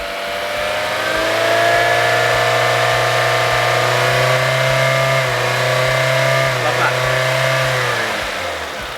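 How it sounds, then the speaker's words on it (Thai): A 2014 Honda City 1.5 V+ engine is held at a steady 4000 rpm for several seconds with a smooth droning hum, then eases back down toward idle. "เดี๋ยวเรารอดูตอนเร่งเครื่อง เร่งไปสี่พันอ่ะ"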